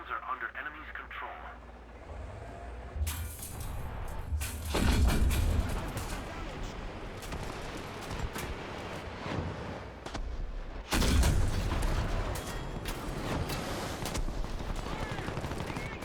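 Heavy gunfire and booming impacts striking a tank in War Thunder, loud bursts at about three, five and eleven seconds over a continuous rumbling, crackling battle din, with game radio voices mixed in.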